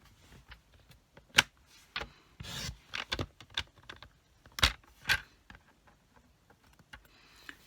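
Card stock is trimmed on a paper trimmer during papercraft work, giving scattered short scraping swipes and clicks of varying strength, with a longer rasping slide in the middle, close and fairly quiet, with no talking.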